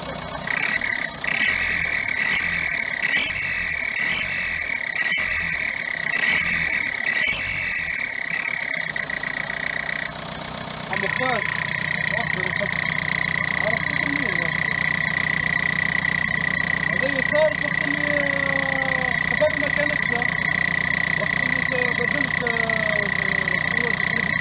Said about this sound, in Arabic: هذا الصوت في المحرك صار لي بعد ما غيرت الكاتينة